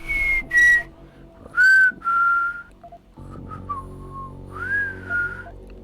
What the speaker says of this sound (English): we just heard some gentleman whistling the theme song to the original Deus